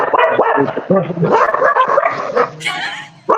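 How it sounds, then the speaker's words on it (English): Several dogs barking and yipping in quick, loud bursts with whimpering tones, close and continuous for a few seconds, with voices mixed in. "Who let the dogs out?"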